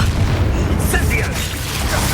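A fire spell blast in the video game Hogwarts Legacy, a loud, dense booming rush with heavy low rumble that fills the whole moment, up close, with a voice speaking over it.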